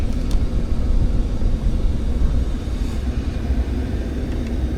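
Climate control fan of a 2025 Mercedes-Benz S580 blowing inside the cabin, a steady, fairly loud rush of air over a low rumble, unchanging throughout.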